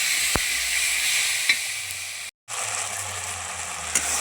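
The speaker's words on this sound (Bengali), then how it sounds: "আর গুলে রাখা লঙ্কা গুঁড়োর জলটা দিয়ে দেব, দিয়ে ভালো করে কষিয়ে নেব।" Spices with salt, turmeric and chili powder water sauté in a pan for a vegetarian jackfruit curry, making a close, steady hissing sizzle with a few clinks and a brief cut to silence midway.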